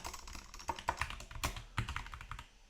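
Keys on a computer keyboard clack in an irregular burst of quick taps, close and fairly quiet, with no voices.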